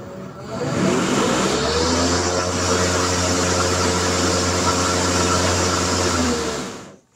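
A gas lawn mower engine with a 4.5 horizontal engine fires up and settles into a loud, steady droning run close by, holding for several seconds before cutting off at the end.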